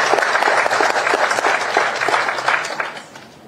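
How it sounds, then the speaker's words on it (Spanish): An audience gives loud, dense applause for a newly appointed vice minister of foreign trade and integration at a formal government event, steady clapping that fades out near the end. "vamos a brindarle un fuerte aplauso al flamante viceministro de Comercio Exterior e Integración"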